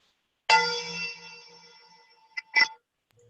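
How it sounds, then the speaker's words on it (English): A single bright metallic ding rings out and slowly decays, followed by a couple of brief clinks, otherwise quiet. "Different kind of bell, but a bell nevertheless."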